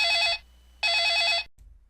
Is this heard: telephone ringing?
yes